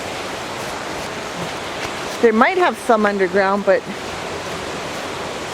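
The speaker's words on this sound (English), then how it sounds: "I can hear this creek from my house, from my bathroom." A creek rushes steadily nearby, a loud, continuous wash of flowing water that runs the whole time while a person speaks briefly over it.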